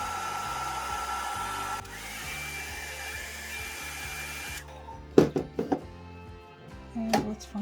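A hair dryer blows steadily and loudly while drying an alcohol ink flower center with Ranger Liquid Pearls dimensional paint, then cuts off, leaving a few sharp handling clicks and taps.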